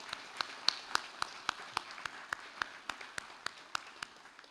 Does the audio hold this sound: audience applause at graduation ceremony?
yes